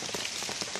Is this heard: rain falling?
yes